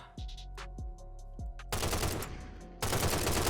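Rapid gunfire bursts from a weapon aimed at an admin in Minecraft, three short sharp shots followed by two long loud sustained volleys of automatic fire, with no talking.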